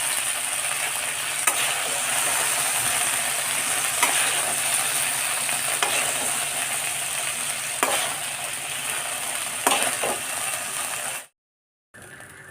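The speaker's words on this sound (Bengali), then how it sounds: "ভেন্ডিটা আমার ভাজা হয়ে গেছে" Okra fries in a pan with a steady loud sizzle and occasional spatula scrapes for about eleven seconds, then cuts to brief silence before resuming; no one speaks.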